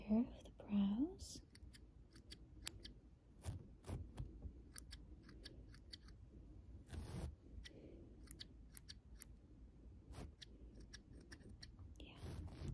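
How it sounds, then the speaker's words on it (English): Small scissors snip at eyebrow hair in a run of crisp, close clicks at an irregular pace, with soft whispering now and then. "Do just some general trimming here of the brows."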